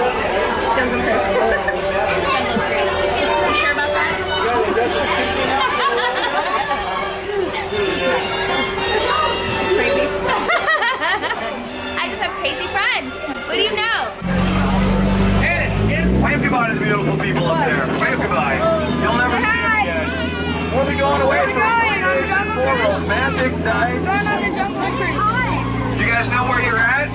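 A Jungle Cruise boat ride at a Disney park, with steady crowd chatter and a loudspeaker voice over a continuous rumble of the boat's motor and water.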